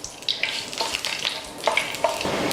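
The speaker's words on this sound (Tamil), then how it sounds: "ஒரு சின்ன துண்டு பட்டை, ஒரு 3 ஏலக்காய், கூடவே ஒரு 3 கிராம்பு வாசனைக்காக இதெல்லாம் போட்டு லைட்டாக ரோஸ்ட் பண்ணலாம்." Cinnamon, cardamom and cloves lightly roasting in a pan give a soft, close sizzle, with scattered crackles and scraping stirs across a couple of seconds and no voices.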